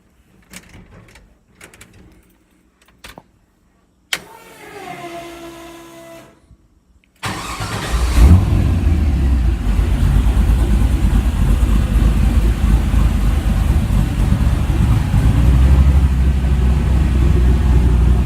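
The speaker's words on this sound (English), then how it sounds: "This video wouldn't be a video without starting a truck." An LS-swapped Chevrolet C10 truck in a shop: a few clicks and clunks, then the starter cranks and the V8 fires, settling into a loud, close, rumbling idle with small revs that runs to the end.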